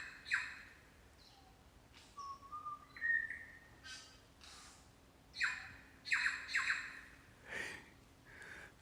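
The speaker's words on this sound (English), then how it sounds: "Bird song's pretty cool in here." Birds call in Australian bush country, with scattered chirps, whistles and short squawks at moderate distance over a quiet background.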